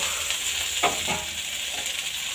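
Sautéed cauliflower goes into a hot pan and sizzles loudly, a broad steady hiss with a couple of brief scraping stirs near the middle, with no speech.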